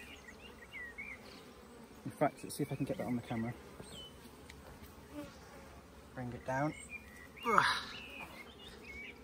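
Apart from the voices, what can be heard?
honey bees on an open hive frame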